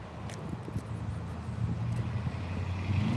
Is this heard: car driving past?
yes